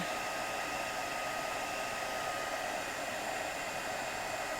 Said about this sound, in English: Just heat gunning again.